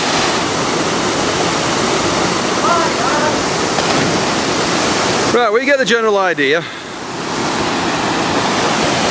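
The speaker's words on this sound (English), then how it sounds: "The waterfall's nice and free flowing. It's not too fast, nice and gentle." A gentle, free-flowing waterfall at Stainforth Force pours in a steady, loud broadband rush, with someone briefly speaking over the water partway through.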